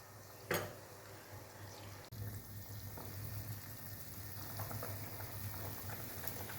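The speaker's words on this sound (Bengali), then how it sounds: "ঝোলটা ভালো করে ফুটে গিয়েছে" Curry gravy for a vegetarian dhoka dish boiling in a pot, a faint, continuous bubbling hiss after a brief clink at the start, with no talking.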